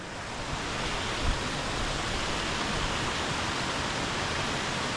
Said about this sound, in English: But first we see the waterfall.